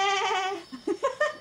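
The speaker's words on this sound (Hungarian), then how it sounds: "Mi volt ez a kecske hang?" A goat bleats in the Rainbow Friends video game, one long wavering cry followed by a few short, choppy bleats, loud and close.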